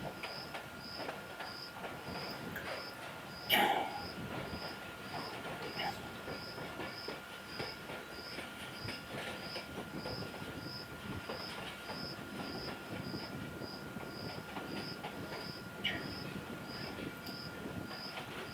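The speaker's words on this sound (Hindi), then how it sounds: "लेकिन गाड़ी स्लो हुई है।" A Badar Express passenger train in Pakistan, between Sheikhupura and Lahore, rolls along the rails while slowing, with a continuous rumble, clattering wheels and a faint repeating high squeal, steady and fairly distant.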